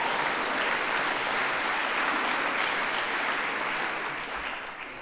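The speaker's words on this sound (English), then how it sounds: "You mustn't clap the individual poems." An audience applauds after a poetry reading at an evening event featuring five women laureates, a full, even burst of clapping that stays constant and then tapers slightly toward the end.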